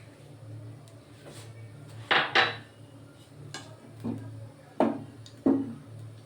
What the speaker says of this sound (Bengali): সর্ষের তেলটা আমি ফ্রাইং প্যানে